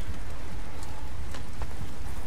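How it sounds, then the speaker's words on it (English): A hailstorm in the video game Subnautica Below Zero makes a dense, steady patter of ice pellets hitting surfaces, continuous and fairly loud, with a few sharper pings standing out. "There's a hailstorm coming down right now, which is no good."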